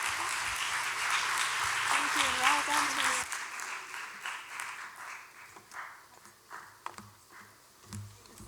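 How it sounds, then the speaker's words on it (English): Audience applause for the panelists at the Cambridge Legal Conference opening ceremony, a loud, dense burst of clapping that fades after about three seconds into scattered claps and room noise, with talk over it. "Can we please have a round of applause for our amazing panelists?"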